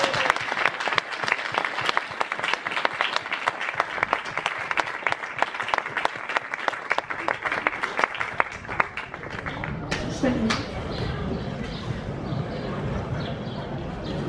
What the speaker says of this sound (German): Auch für die nochmal ein Applaus